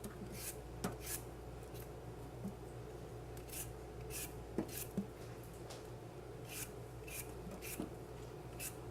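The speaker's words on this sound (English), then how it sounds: "I'm going to peel it first. Let's peel it real quick." A vegetable is peeled in a kitchen with repeated soft rasping scrapes in a steady rhythm, close but quiet over a low room hum.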